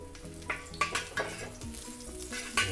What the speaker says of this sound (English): Okay, with this, we'll fry ginger slices.